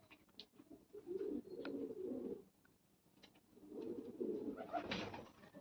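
Kept racing pigeons coo softly in two drawn-out, burbling bouts separated by a short lull. The sound is faint and fairly distant, with no talking.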